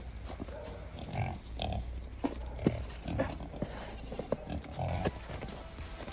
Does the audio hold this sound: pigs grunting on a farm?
yes